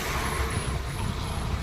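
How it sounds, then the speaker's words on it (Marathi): A bus climbs the steep, winding Yeoor ghat road, giving a brief, low engine rumble at moderate distance. "बस पण आलेली आहे"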